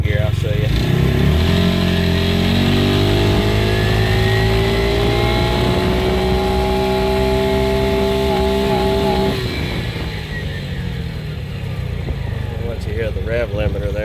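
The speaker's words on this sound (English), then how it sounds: "Once you hear the rev limiter there" A Bighorn Powermax 30 UTV engine revs hard in low gear up to the rev limiter, a loud, steady, close drone of rising pitch, then drops back to a rougher running note.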